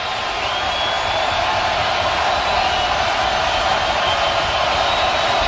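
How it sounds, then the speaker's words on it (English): Stadium crowd at an NFL game between the Cincinnati Bengals and Baltimore Ravens roars steadily before a big third down, a continuous wash of distant noise with no clear voices. "The crowd knows it. Listen in."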